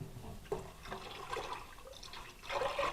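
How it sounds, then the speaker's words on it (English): Cold water, four cups' worth, splashing and trickling into a cooking pot at home, a soft continuous pour with a louder surge near the end and no talking. "Here comes the cold water."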